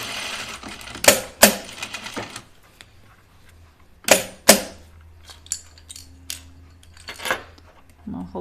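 Short bursts of a sewing machine stitching a waist seam just inside a serged edge, two quick runs of rapid needle clatter separated by pauses, with light handling clicks and fabric shuffling in between.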